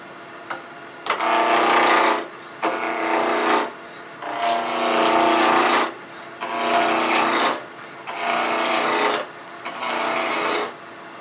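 A woodturning gouge cuts a small wooden Christmas ornament spinning on a lathe, with six loud rasping cuts of a second or two each, separated by brief pauses.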